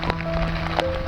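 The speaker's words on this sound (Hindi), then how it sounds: "बारिश पड़ रही है" Rain falls steadily on a damaged shelter, a dense patter of drops close by with a few louder taps standing out against a constant low hum, and no talking.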